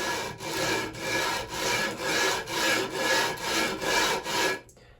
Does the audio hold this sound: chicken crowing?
no